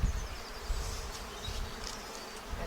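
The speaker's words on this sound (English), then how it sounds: "there's more bees in here, so they're working harder" Honeybees buzzing steadily inside a busy hive, a dense close hum with individual bees rising and fading around it.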